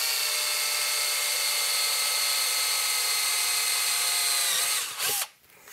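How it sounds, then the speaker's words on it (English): A power drill bores straight through a 1930s Globe tube amp chassis, a loud steady whine holding for about five seconds before the bit breaks through and the motor winds down. "So make sure that the bit's straight and drill through."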